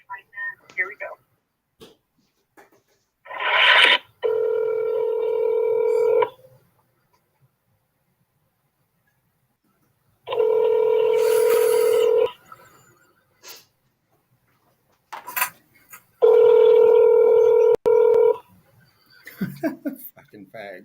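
A telephone call rings through on the line before being forwarded to voicemail: three long, evenly pitched ringback tones separated by gaps, with faint breathing and short vocal noises in between.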